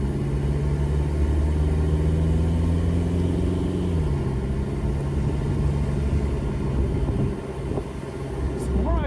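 Diesel-swapped Jeep Wrangler TJ engine running while driving, a steady loud low rumble with a droning tone that shifts pitch partway through as revs change, with a voice talking faintly over it.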